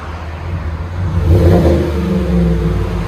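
A 2018 GMC Sierra Denali with a 5.3L V8, resonator and muffler removed for a Flowmaster Super 44 exhaust, rumbling loud and close at idle before a single rev swells and holds as a deep drone.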